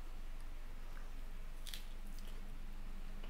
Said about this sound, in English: I am having some strawberries to dip in with some cream cheese.